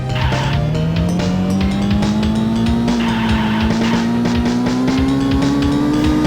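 Mazda RX-7 racing in the SNES game Drift King, with a loud, steadily rising engine tone over continuous squealing tires and skidding, dense and unbroken throughout.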